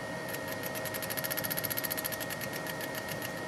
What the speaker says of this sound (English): now just for fun, I went ahead and hooked up a little motor to the thing, and let's see how she goes